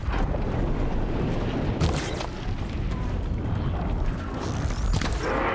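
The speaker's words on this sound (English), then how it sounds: "I'm hoping all of your explosions can just bounce off of each other" Machines blowing up in the video game Horizon Zero Dawn, a dense, continuous roar of explosions and rumbling booms filling the whole stretch, loud and close, with no clear gaps between blasts.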